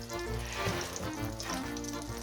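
Shallots sizzling in a pan of melted butter and olive oil for a risotto milanese, a steady dense crackling fry that stays constant throughout with no talking.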